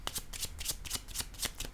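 Tarot cards riffle and shuffle in quick repeated bursts, about seven crisp flutters close by over a couple of seconds, with no talking.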